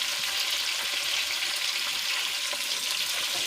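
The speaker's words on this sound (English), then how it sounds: "But here we're just frying off our fish" Pieces of fish frying in hot oil for a Jamaican brown stew, a loud, steady hiss and crackle that runs unbroken throughout, with no voices.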